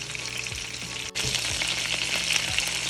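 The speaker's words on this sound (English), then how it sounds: "I will fry the other side also" Pieces of Jamaican brown stew chicken fry in a pan with a steady, dense crackling sizzle, close and fairly loud, with a brief dropout about a third of the way through before the frying resumes.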